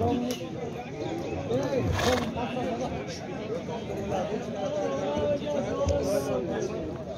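Horses at a crowded livestock market, with neighing and whinnies breaking through steady crowd chatter and bargaining voices, plus scattered hoof clatter in a busy outdoor bazaar.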